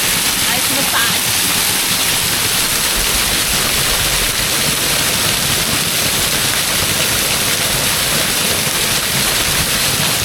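Steady, dense rushing roar of a waterfall pouring into a river on a hike in the Northern Range, a constant hiss of falling water with no break.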